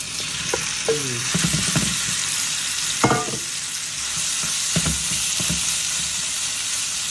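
Beef stir fry sizzles in a pan with a steady bright frying hiss, broken by a few clinks and scrapes of stirring and no talk.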